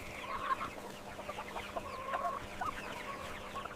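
White broiler chickens in a large automated factory house give scattered soft clucks over a steady mechanical hum, with many birds murmuring at moderate distance.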